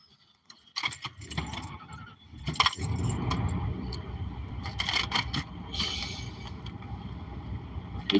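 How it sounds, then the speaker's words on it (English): Keys jangle and clatter close by while a vehicle is being started on a snowy morning, followed by a steady mechanical hum with scattered rattles and clicks. "let's start the vehicle up"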